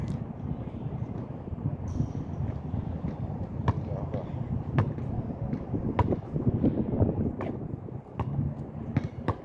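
Wind on a gusty day in Reseda rumbles and buffets the microphone in a continuous low roar, with scattered sharp knocks and clicks throughout.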